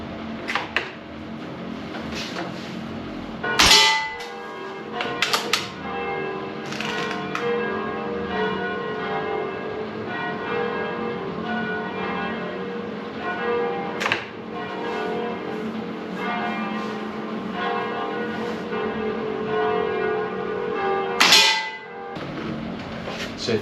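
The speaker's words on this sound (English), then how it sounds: "if you can hear the sound of bells in the background" Church bells ring continuously with layered, sustained metallic tones, punctuated by a few sharp metallic clicks and clacks from a nearby Diana Mauser K98 PCP air rifle bolt action.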